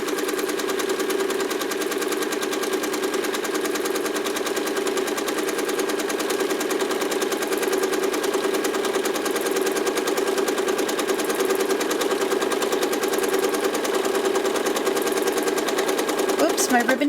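A sewing machine runs steadily while free-motion quilting a ribbon candy pattern on a piano key border, giving a continuous mechanical whir and hum that stays even and loud throughout, with no pauses.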